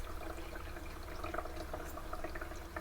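Tap water runs steadily inside a motorhome, cold and hot taps left open to flush through, a close continuous splashing flow with small drips and gurgles, no voices.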